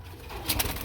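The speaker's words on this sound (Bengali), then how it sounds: "গুল্লা কবুতর খুবই চঞ্চলই থাকে, এগুলো উড়ে বেশি।" A pair of Gulla pigeons at a pigeon sale coo softly and fairly close, with a few low, rounded calls rising over a quiet background.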